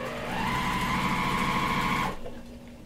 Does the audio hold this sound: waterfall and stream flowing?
no